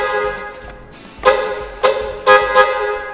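A car horn sounds in several short, loud honks, set off from the steering wheel of a car fitted with an aftermarket sport wheel, over a quiet idle in a parking lot.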